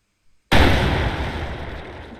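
A single tank cannon shot booms in a multiplayer tank video game, one loud abrupt blast after a brief silence that decays into a long rumbling tail.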